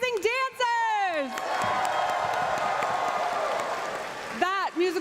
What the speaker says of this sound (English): let's hear one more big round of applause for Kylo, Moon, and our amazing dancers!